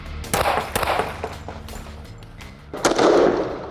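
Gunshots during a defensive shooting drill after a parking lot attack scenario, several loud sharp bangs at close range with echoing tails, the last one sustained and heavy.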